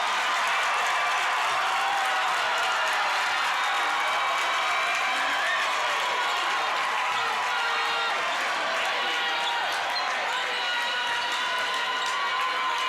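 Gym crowd at a Hedgesville vs. Martinsburg high school boys basketball game erupts in steady cheering and applause after a basket, a continuous roar filling the space for several seconds.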